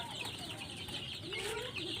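Young chickens in a poultry pen, a steady chorus of overlapping peeps and soft clucks at close range with no pauses.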